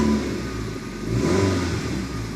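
A used car at a UK auction, just started, revs up with a steady mid-pitched engine roar that swells and dips over a couple of seconds, close and loud with no talk.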